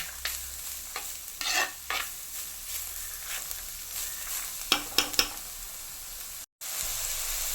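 A spatula stirs tuna and vegetables for a Kerala-style tuna thoran in a pan, making intermittent close scraping strokes over a soft background sizzle, with a sharper cluster of scrapes near the end.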